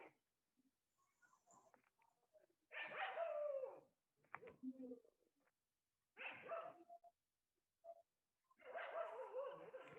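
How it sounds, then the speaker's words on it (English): A dog barks in several loud bursts through an open microphone during an online class, with quieter yips and whimpers between the barks. "किसी के यहाँ से कुत्ते के भौंकने की आवाज आ रही"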